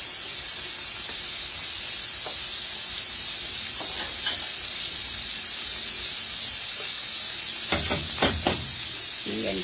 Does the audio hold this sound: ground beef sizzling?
yes